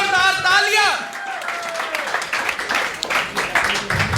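An audience claps loudly for a comeback at a CA exam result celebration, steady applause building over a few seconds after a short musical flourish, with a voice speaking over it.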